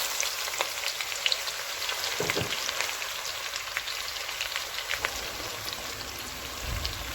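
Onions sizzling in hot oil with bay leaves and garam masala, a steady crackling hiss like light rain, with occasional clinks and stirs close by.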